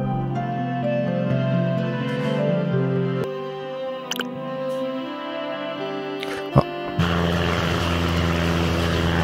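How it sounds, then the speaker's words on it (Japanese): A propeller airplane drones steadily overhead in the Down in Bermuda video game, a continuous humming engine tone that shifts in pitch partway through and swells louder near the end, with a brief sharp knock in between. "飛行機が飛んでますね"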